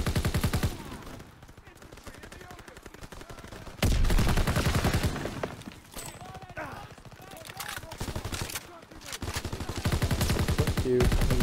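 Call of Duty WW2 campaign combat with loud, sustained bursts of machine-gun and rifle fire, heavy volleys coming in waves, some nearer and some further off, mixed with shouting voices.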